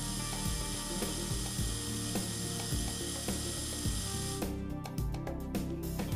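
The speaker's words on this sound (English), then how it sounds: "press the return button to pull back the plunger." Calamus Dual dental obturation handpiece retracting its plunger, a close, steady mechanical ratcheting and gear whir with rhythmic clicks, ending in a quick series of sharper clicks.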